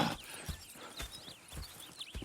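Horses in the Red Dead Redemption 2 video game clop along at a walk, giving a soft, fairly faint run of regular hoof beats with a few snorts and rustles.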